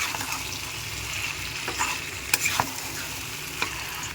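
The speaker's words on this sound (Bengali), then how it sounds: "ভালো করে কষিয়ে নেব।" Fried potato and cauliflower are stirred in a spice paste in a pan, giving a soft continuous sizzle broken by a few sharp scraping clicks of the spoon near the middle and end.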